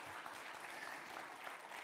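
Audience at a House Democratic town hall on health care breaking into a continuous, even round of applause, heard fairly faint and distant throughout.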